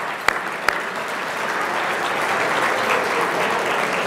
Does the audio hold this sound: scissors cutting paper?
no